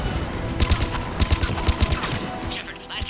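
Rapid gunfire fills a firefight in Mass Effect 3 as repeated bursts of sharp, closely spaced shots sound up close over a busy game soundscape, trailing off near the end.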